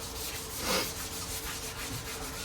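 Sandpaper of 320 grit rubs back and forth over the body of a 1932 coupe, a close, continuous raspy scrubbing that swells briefly with a harder stroke.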